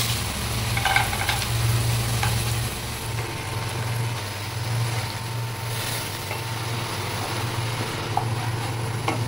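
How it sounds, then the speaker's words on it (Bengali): Potatoes for a bhetki fish curry fry in a pan with a continuous, even sizzle over a low steady hum, punctuated by a few faint stirring clicks. "এখানে ভেটকি মাছের আলুগুলো ভাজা হচ্ছে"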